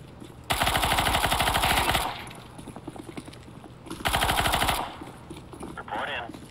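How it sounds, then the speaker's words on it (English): A decoy grenade in a video game faking gunfire: two loud rapid-fire bursts of automatic shots a few seconds apart, with quieter game sounds between them. "Don't get distracted by the decoy grenade."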